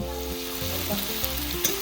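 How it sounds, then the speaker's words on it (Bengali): Small fish fry in hot oil for a small-fish chorchori, making a loud, busy crackling sizzle with a few sharp pops, while steady background music plays underneath. "গরম হয়ে গেছে তেলটা তারপরে শিঙ্গি মাছগুলোকে আগে ভেজে উঠিয়ে নিয়েছে তারপরে দিয়ে দিলে হলো ছোটো মাছগুলোকে"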